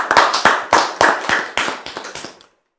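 A church congregation applauding to acclaim the Lord, a loose series of close, sharp clapping bursts that thin out and stop after about two and a half seconds.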